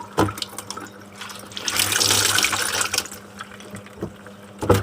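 Rinse water from a washing machine runs into a basin where a small item is being hand-washed. The steady splashing pour swells in the middle and tapers off, with a few light knocks at the start and end.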